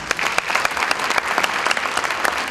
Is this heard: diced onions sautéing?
no